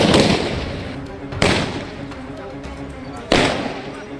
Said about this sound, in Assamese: ৰাজপথত ফটকা ফুটাই আবতৰীয়া দীপাৱলী পালন